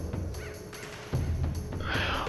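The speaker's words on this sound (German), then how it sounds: "Oh, die Krähen." Crows cawing in the stealth video game Mark of the Ninja, several harsh caws in an uneven series with a flurry of flapping and rustling as the birds take off, loud and close.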